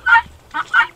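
Three harsh, raspy guinea fowl calls ring out in quick succession, loud and close, the last two nearly back to back.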